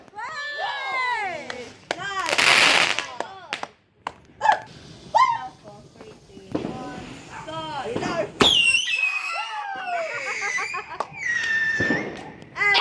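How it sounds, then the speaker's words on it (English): Bonfire night fireworks going off in a quick series of whistling rockets and crackling, popping bursts, some near and loud, with voices calling out between launches. "These are our fireworks for tonight."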